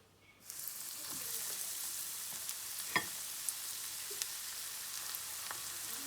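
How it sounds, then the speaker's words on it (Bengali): Breadcrumb-coated marinated chicken fries in hot oil with a steady, even sizzle that begins about half a second in, carrying a few soft clicks and one sharper pop near the middle, with no voices. "ব্রেড ক্রাম্ব জড়িয়ে তারপরে সুন্দর করে গোল্ডেন কালার করে ভেজে নিব"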